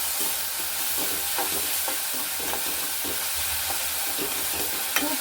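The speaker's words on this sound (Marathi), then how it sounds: "हे परतून घेऊया आपण." Salt and turmeric stirred and sautéed in a hot pan for brinjal bharit, giving a steady, close sizzle with soft scraping strokes of the stirring spoon throughout.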